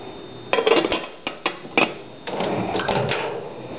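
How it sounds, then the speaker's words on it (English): A lid set onto a 1.5-quart casserole dish holding a cup of water, giving several sharp clinks and clattering knocks in quick succession, followed by a softer shuffling handling noise, up close. "you're going to put your lid on it"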